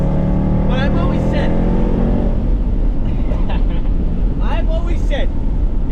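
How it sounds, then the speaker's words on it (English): A Range Rover SVR SUV engine roars loudly and steadily while driving with the windows down, a voice speaking briefly over the continuous rumble. "I have the windows down so you can hear the sound that this car makes."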